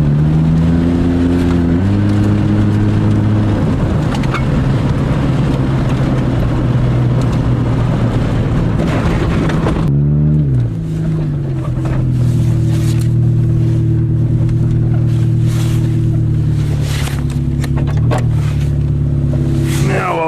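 A 1990 Honda Civic engine runs loud and close in winter, a steady drone with harmonic bands that shift pitch as it revs and changes gear, with a brief break near the middle.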